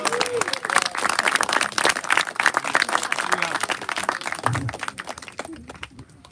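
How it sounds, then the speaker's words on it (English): A concert audience at a blues gospel show claps in sustained, dense applause, close and lively, which thins and fades toward the end. "So big applause for them."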